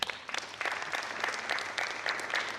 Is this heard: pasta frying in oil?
no